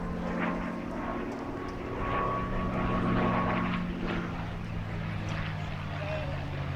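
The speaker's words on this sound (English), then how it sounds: "Could you hear that? That telltale whistle, Rob?" A P-51D Mustang V12 piston warbird making a flyby at a beach air show, its engine drone and faint whistle rising and fading at a distance over steady background noise.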